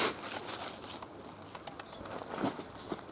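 Pigeons flapping their wings in short, irregular bursts of soft fluttering, with no talk over it.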